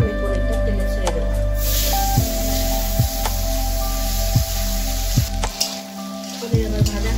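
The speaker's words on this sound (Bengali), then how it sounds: "তেল গরম হয়ে গেছে, আমি পনিরটা তেলে ছেড়ে দেবো।" Paneer, rubbed with salt and turmeric, dropped into hot oil and frying, a sputtering sizzle under repeated low thuds and clatter from the pan, with some talk present.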